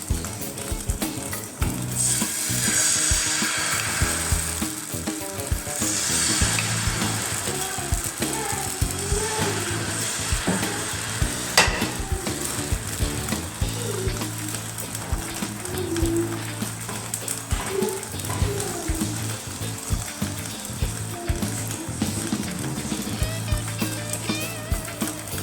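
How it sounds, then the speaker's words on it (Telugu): Wheat dosa batter sizzles steadily on a hot pan over a stove, a continuous close frying hiss with occasional scraping and clicking of a utensil. "సో ఇప్పుడు దోశలు వేసుకున్నామండి."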